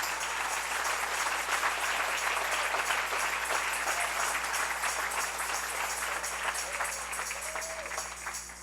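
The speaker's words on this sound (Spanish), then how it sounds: "Denle ese aplauso al Rey" A church congregation applauds after a sermon, a fairly faint, dense and continuous patter of many hands clapping over a low steady hum, slowly tapering toward the end.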